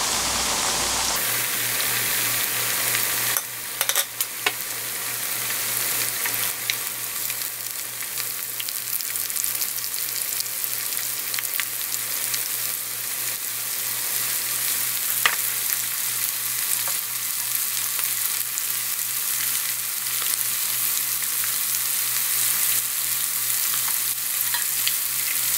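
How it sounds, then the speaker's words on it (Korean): Battered pork pieces for sweet and sour pork fry in hot oil with a loud, continuous crackling sizzle, steady throughout and close by, with no voices. "탕수육 고기를 앞뒤로 이렇게 뒤적거려가면서 튀기시면 되거든요"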